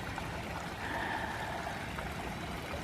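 Creek water flowing steadily as a broad, continuous wash of close, even running water, with no voices.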